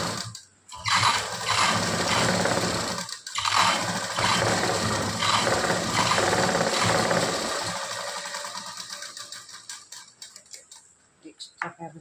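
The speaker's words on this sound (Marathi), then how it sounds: "दाब शिलाई मारून घ्यायची." An electric sewing machine runs almost without pause while stitching tucks on a blouse, a loud steady whirring drone that stops briefly twice near the start and thins into sparse clicks toward the end.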